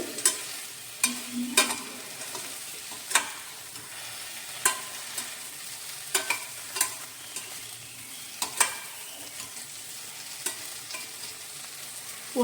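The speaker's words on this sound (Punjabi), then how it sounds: "ਅਸੀਂ ਇਹਨੂੰ 2 ਮਿੰਟ ਭੁੱਜਣ ਦੇਣਾ ਇਸ ਤਰ੍ਹਾਂ ਹਲਕੇ ਹਲਕੇ ਸਿਮ ਤੇ ਭੁੱਜਣ ਦੇਣਾ" Okra and long-cut green chillies fry gently over a low flame, a steady soft sizzle broken by sharp, irregular taps and scrapes of a spoon stirring the pan, with no voices.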